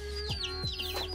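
A mother hen and other chickens gathered in a tree on a country farm give a few loud, close clucks in quick bursts against a steady background drone.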